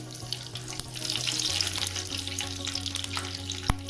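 Green chillies, halved, sizzle and fry in hot oil with mustard seeds in a home kitchen while kanda poha is being made, a steady crackling hiss throughout with a low hum underneath and no talking.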